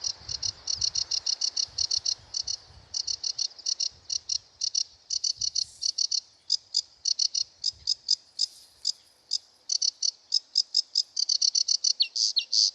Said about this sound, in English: The Sedge Warbler has quite a long and loud and quite excited song, rapidly changing, jerky notes and some trills.